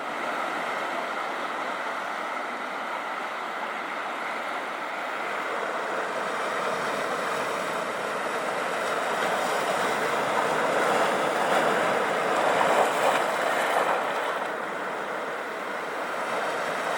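Sea waves wash against a rocky shore near the Corryvreckan on a breezy evening, a continuous rushing surf that swells and eases, louder in the middle, with no voices.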